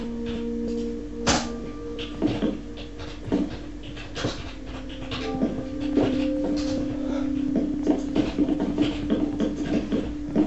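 Dogs whimper in the Minecraft video game, with repeated short whines and yelps over a steady tonal game hum, some close and loud, continuing throughout.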